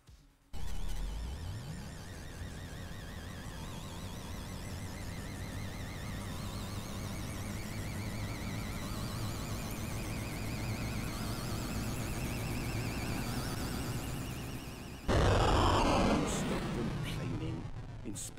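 A red alert alarm in a space video game blares continuously, a loud repeating electronic warble that holds for many seconds and then jumps to a harsher, louder blast near the end.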